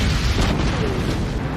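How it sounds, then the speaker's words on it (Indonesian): Large explosion from a fuel tank shot during an action movie scene, a loud sustained rumbling boom with dense low-end roar filling the whole moment, no talk. "memicu ledakan besar."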